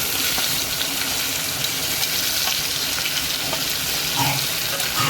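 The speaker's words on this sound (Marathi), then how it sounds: "मग आपण टोमॅटो टाकूया कट केलेले" Cut tomatoes tipped into a hot frying pan of vegetables with black masala sizzle and hiss steadily at close range, a dense broadband frying noise with faint stirring clicks throughout and no talking.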